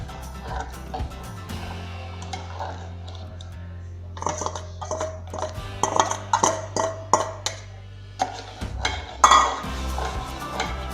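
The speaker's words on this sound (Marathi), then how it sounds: "हे आपण केलेलं मिश्रण हळूहळू घालत खाली हलवत राहायचं आहे" Besan mixture stirred into boiling water in a pot, a spoon repeatedly scraping and clanking against the metal over a low steady hum, irregular bursts of stirring growing busier toward the end.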